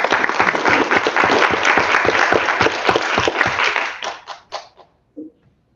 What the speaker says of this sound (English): A round of applause for our friends in Baltimore.